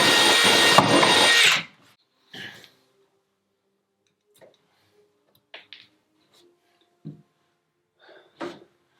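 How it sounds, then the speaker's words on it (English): A power drill bores through a wooden stud during plumbing work in a single loud, dense burst lasting under two seconds, then cuts off, leaving quiet scattered knocks and faint handling sounds. "it's going to be hard to drill a hole and bend the pecs quickly"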